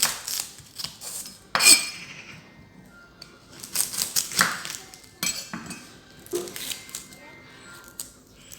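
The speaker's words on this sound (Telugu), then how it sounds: "నేను పొడవుగా స్లైసెస్గా కట్ చేసుకుంటున్నాను ఆనియన్ని." A knife cuts an onion into long slices on a board for egg fry, giving a series of sharp, close chopping taps in uneven bursts with pauses between them.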